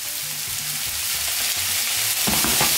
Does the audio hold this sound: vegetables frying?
yes